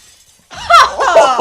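Something shatters with a bright, crashing burst in an anime episode's sword-fighting scene, a loud break of tinkling fragments arriving after a brief silence.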